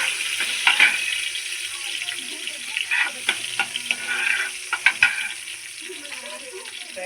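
Finely chopped ginger and garlic sizzle steadily in hot oil while being stirred, with scattered utensil scrapes and pops, close and continuous, for spicy momos.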